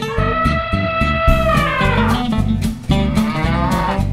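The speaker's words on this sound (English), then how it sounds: "Cow." A cartoon-style cow moos in one long, loud, harmonic call that bends and fades, set over a rhythmic backing of children's music with no talking.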